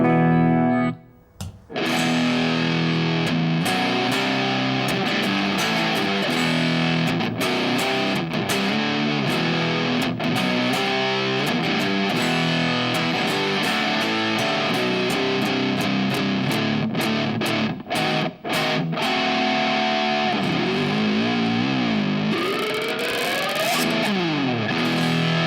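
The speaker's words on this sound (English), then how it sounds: "step on the pedal, check out how much distortion I have." Heavily distorted electric guitar playing loud, sustained chords and riffs, with brief pauses and a sliding bend near the end, no talking.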